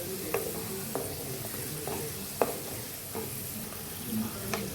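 Dry red chilies, mustard seeds and garlic crackle in hot oil for a tomato pachadi tempering, a soft continuous sizzle broken by several sharp pops and spoon clinks.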